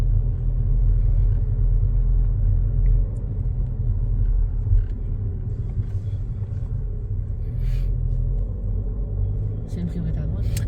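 A car engine hums and rumbles at low speed inside the vehicle during a driving lesson, a steady low drone with small surges, while people talk quietly over it.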